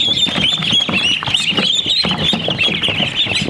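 Frightened Big Red Broiler chicks in a brooder peep constantly in a dense, high chorus, with soft scuffling and scurrying underneath.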